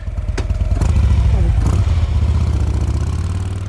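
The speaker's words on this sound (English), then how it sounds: "She's a 2007 Harley-Davidson Road King Custom." A 2007 Harley-Davidson Road King Custom rumbles close and loud with a deep, lumpy, pulsing idle and a few brief throttle swells.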